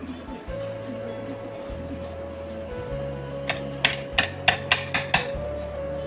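Cardamom powder is tipped and scraped from a grinder jar into a bowl while cooking gujiya, giving a run of sharp metallic clinks and taps in the closing seconds over a steady hum and low background noise.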